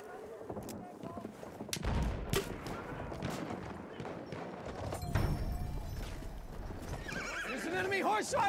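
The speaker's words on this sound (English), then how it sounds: "There's an enemy horse rider!" An enemy horse in the video game Battlefield 1 whinnies and gallops with clip-clop hooves amid gunfire and artillery, with a shrill neigh near the end and a voice talking over the battle.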